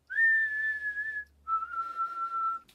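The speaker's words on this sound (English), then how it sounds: "I'm gonna whistle." A person whistles two sustained, gently wavering tones separated by a short pause, each held over a second, close and clear with no other sound, as raw material for remaking a reggae beat.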